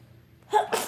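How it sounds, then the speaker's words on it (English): One close, sharp human sneeze, a quick intake followed by a loud burst, with a second smaller burst just after, in an otherwise quiet room during a morning talk show. "You just needed to get that sneeze out?"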